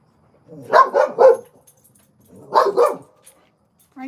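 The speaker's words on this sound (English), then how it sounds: "Y'all excuse the dog." A dog barks indoors during a live resin crafting session at home: a quick run of three sharp barks, a pause, then two more, close and loud with no talk over them.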